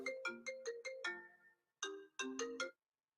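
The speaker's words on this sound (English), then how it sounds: "whoa, got a phone call there." A phone ringtone for an incoming call plays a bright electronic melody in two quick bursts of notes. It sounds clear and close, with a short gap between the bursts and silence after them.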